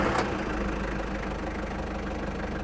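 A Nissan Terrano 2 with a 2.7-litre diesel engine idles just after starting, a steady low, slightly knocking rumble heard up close and alone after a brief sharp click at the start.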